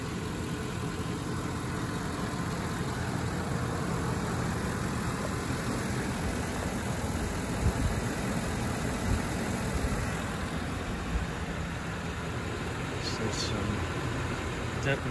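A 2010 Ford Econoline E-250 extended cargo van idles steadily with a low, even engine drone, while someone talks over it throughout.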